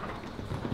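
Horse hooves clip-clop on the ground during a show-jumping riding clinic, a brief run of close, moderately loud hoofbeats with no talking.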